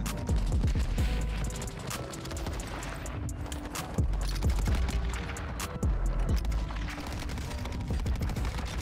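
Rapid gunfire from a weapon in the shooter Warzone 2, a dense, loud run of repeated shots and impacts continuing throughout with little pause.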